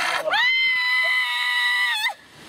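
A single sustained high-pitched scream from one person, loud and close, lasting about two seconds and stopping abruptly, with no other talk over it.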